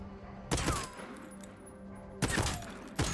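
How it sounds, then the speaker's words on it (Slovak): A gun in the video game VoidTrain fires in two sharp bursts of rapid shots, loud and close against a quiet background hum, with a short final shot at the end. "Ono to strieľa po dávkach, dá sa to nejako zmeniť."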